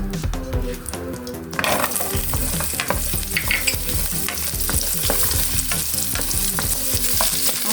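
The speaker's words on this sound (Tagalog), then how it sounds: "So, fry natin sandali yung ating carrots." Carrots frying in a pan for sautéed cauliflower with shrimp, a loud continuous sizzle that swells after the first second, with scattered clinks of a utensil stirring against the pan, close and dense.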